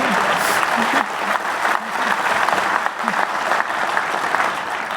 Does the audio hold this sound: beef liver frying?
no